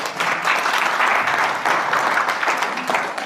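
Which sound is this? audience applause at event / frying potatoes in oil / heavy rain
audience applause at event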